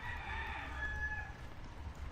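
A White Kelso rooster crows once, a drawn-out call fading away, faint and somewhat distant over low background rumble.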